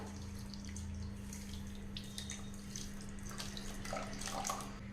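A full cup of water is poured into sugar to make syrup for badusha, giving a steady, even splashing and running-water rush that lasts throughout, close and moderately quiet, with no talking.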